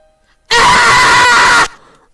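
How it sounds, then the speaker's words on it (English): A person lets out one loud, sustained scream lasting over a second, close and alone, cutting off abruptly into near silence. "I just scream randomly."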